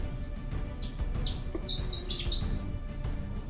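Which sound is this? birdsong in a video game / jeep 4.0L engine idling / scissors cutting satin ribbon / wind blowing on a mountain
birdsong in a video game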